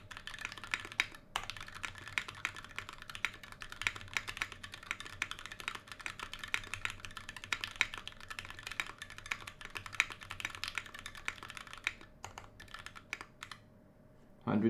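Fast, steady typing on a KBDFans Tofu 60 keyboard with lubed Gateron Yellow linear switches, close and crisp, a dense run of light keystrokes that stops briefly near the end.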